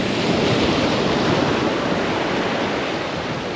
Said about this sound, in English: Oh, the water's really coming in now